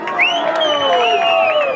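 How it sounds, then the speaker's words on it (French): A crowd cheers and applauds for a team mascot, voices shouting and whooping loudly over scattered clapping. "On l'applaudit bien fort."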